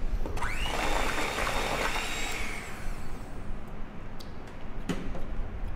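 A blender whizs a baked cheesecake mixture with lemon juice in a steady whirring burst that fades after a couple of seconds, leaving quieter clatter behind.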